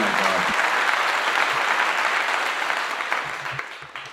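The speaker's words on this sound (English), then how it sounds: "That one actually does deserve applause." Applause from a small group fills the room steadily, then tapers off, with a few faint voices breaking through near the end.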